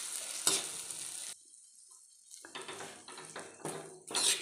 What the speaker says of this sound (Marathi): मिक्स करा छानपैकी.